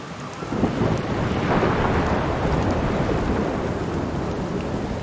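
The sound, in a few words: thunderstorm with rain in video game Outer Wilds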